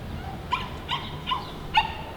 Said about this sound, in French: Les chiens sont là-bas.